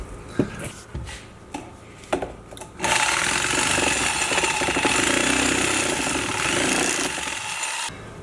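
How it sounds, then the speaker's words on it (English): A reciprocating saw fitted with a metal-cutting blade cuts through a metal roof rack on a Toyota Tacoma, giving a loud, continuous buzzing rasp for about five seconds after a few scattered knocks and clatters, then stopping abruptly. "I've got a SAWSALL with like a metal cutting blade."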